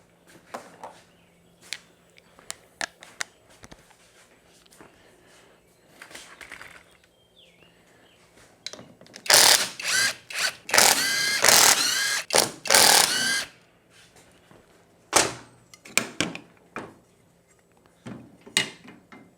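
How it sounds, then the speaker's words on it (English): A 12 socket wrench ratchets out four backing plate bolts on a Honda TRX350TM quad. Quick, loud clusters of metallic ratcheting clicks come in the middle, and sparser clicks and clanks follow. "Get our 12 and take out our 4 bolts to hold the backing plate on."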